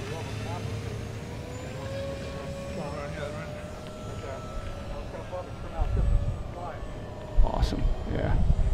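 An E-flite Twin Otter RC model airplane drifts past slowly at an RC field, its steady motor drone audible at moderate distance beneath ongoing outdoor talk and some wind buffeting.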